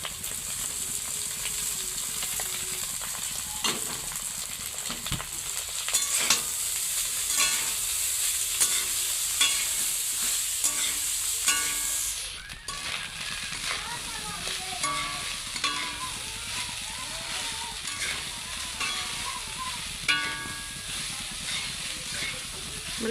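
Leftover cooked rice is stir-fried in a pan with spices, a close, steady sizzle and hiss broken by repeated scraping stirs, with a brief pause midway before the frying continues.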